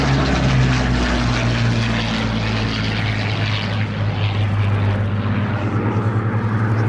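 A Supermarine Spitfire propeller fighter flies at the Fly Navy air show with a loud, steady droning engine and propeller roar, close and continuous, with a narrator speaking over it.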